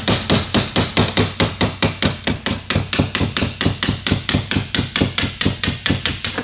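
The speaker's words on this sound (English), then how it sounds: "The nice little hammer" Rapid, steady hammer taps ring out close by during electric drift trike assembly, about four strikes per second in an even rhythm, with no voices.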